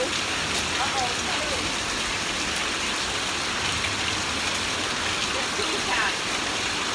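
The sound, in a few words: hail or heavy rain falling outside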